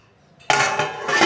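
A metal lid drops onto a kadhai of steaming poha with one sudden clattering hit, then rings and rattles on close by with no talking.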